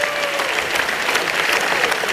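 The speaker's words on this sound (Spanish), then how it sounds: "Aplausos, señores, para ambos." A boxing arena crowd applauds both fighters after the Donnie Nietes vs. Moises Fuentes bout, loud dense clapping with a murmur of crowd noise beneath.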